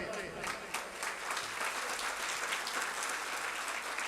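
Audience applause at a school event fills the room, steady and sustained, with dense clapping throughout and a faint voice in the background.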